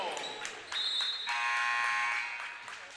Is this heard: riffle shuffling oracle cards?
no